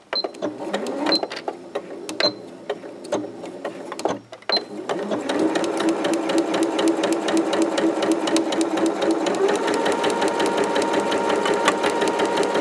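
A sewing machine runs a straight stitch along the edge of a tote bag, first in short stop-start bursts with brief pauses, then in one long, steady whirring run.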